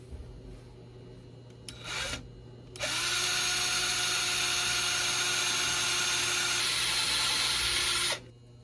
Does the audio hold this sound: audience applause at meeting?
no